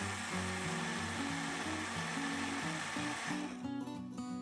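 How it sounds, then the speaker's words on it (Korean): A blender grinds black sesame, perilla powder, water, salt and honey, a loud close whirring motor with shifting pitch as the contents churn, steady for several seconds before a rougher, choppier final moment. "흑임자의 입자가 곱게 갈릴 때까지 갈아줍니다"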